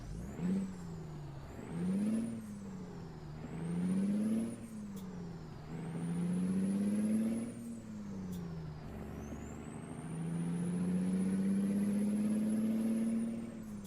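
A heavy truck engine in the American Truck Simulator game, loud and droning, revving up and down in repeated swells as it shifts through gears, with a high whine riding on top and no talking.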